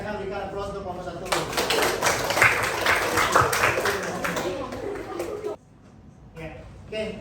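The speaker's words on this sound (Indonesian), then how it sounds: "silakan berikan aplaus untuk kelompok 1" A training-class group applauds group 1, a burst of scattered clapping from a small room that runs several seconds before cutting off into quiet, with a voice afterward.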